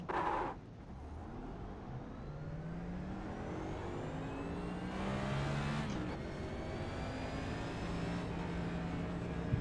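Several iRacing simulated race car engines at Atlanta whine and rise in pitch as they accelerate past, overlapping in a steady roar that builds and shifts.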